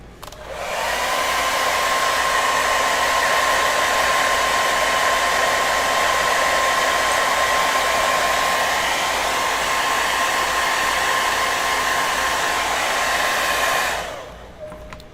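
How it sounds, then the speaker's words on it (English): A hair dryer blows loud and steady for about thirteen seconds, used to speed glue drying on a servo skull model build, then shuts off with the whine trailing away. "Get my hair dryer."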